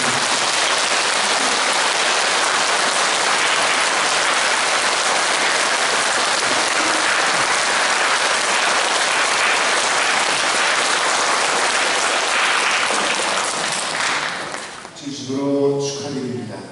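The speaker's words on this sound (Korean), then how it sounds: "큰 박수로" A church congregation applauds newly baptized members: dense, steady clapping fills the hall for about fourteen seconds, then thins out as a voice begins speaking near the end.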